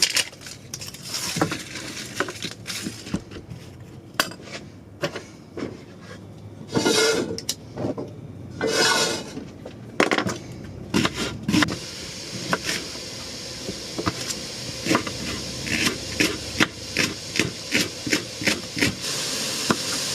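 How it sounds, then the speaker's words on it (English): Leek, red pepper and young yellow onion sizzle in a pan with a continuous soft hiss, punctuated by sharp clicks and clatters of a utensil stirring the vegetables, growing busier and more rhythmic toward the end. "Let's put them all in, cook them up, and get them sizzling."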